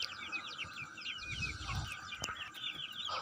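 Native hens on a Kerala backyard poultry farm cluck steadily in a busy, close chorus, with soft bird chatter overlapping throughout and no speech.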